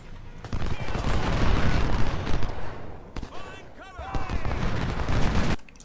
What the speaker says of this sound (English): I want you firing onto 123rd Illinois